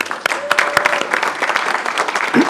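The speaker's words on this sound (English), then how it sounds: "Maybe give her a round of applause." Audience applause at a school district board meeting, a short burst of clapping with some louder individual claps, fairly close and steady with no talking over it.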